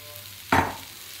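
Poha tossed into a hot pan with fried potato gives one sudden sizzling burst with a scrape of stirring, close and fairly loud, fading quickly over about a second.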